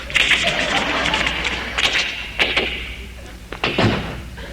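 A man vocally imitates a front door being opened and slammed, producing a series of sharp knocks, thumps and creaks with breathy hissing in between, close and fairly loud.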